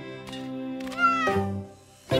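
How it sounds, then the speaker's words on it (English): Several high, plaintive meows from a small kitten in a children's cartoon, close and clear, rising and falling over a soft tonal background with no talking. "It's okay, little kitty. You're safe now."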